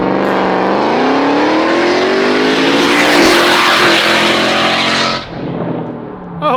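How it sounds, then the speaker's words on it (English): A 1,300 hp widebody Dodge TRX truck with side exhaust unleashes a long, very loud, close rev, its pitch climbing steadily before cutting off abruptly, followed by a rumbling settle and a final short blip. "This might be the loudest truck you've ever heard."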